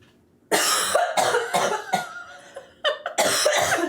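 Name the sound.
coughing fit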